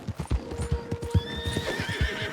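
A horse in the Red Dead Redemption 2 video game clops its hooves in a steady rhythm while a drawn-out neigh rises over the footfalls, close and clear.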